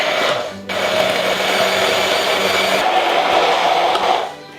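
Kitchen mixing machine blending chicken croquette batter with vegetable peanut oil, a steady loud whirring motor drone that runs continuously for a few seconds, then fades as it stops.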